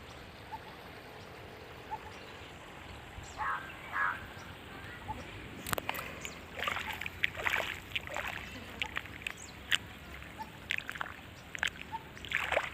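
Water being poured onto a freshly planted cabbage garden bed, with soft irregular splashes and sloshes that start quietly and grow more frequent, close by against a faint outdoor background.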